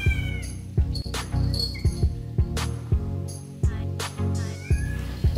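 Cats meow repeatedly over a steady hum, with sharp clicks and clinks breaking in, as though played back through a speaker.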